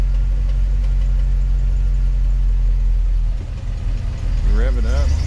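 An International Scout engine that loses oil pressure when hot and makes an odd noise runs at a steady, loud idle, then its note swells briefly as it is revved, with a voice heard near the end.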